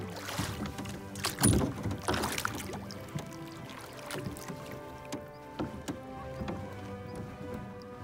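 A rowboat out on the water at Umeda Dam in Kiryu, with soft paddle splashes, knocks against the hull and gentle water sloshing, close and fairly quiet, irregular strokes over a calm background.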